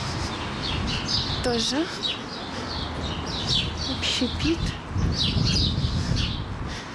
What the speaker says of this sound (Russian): птички поют, воробушки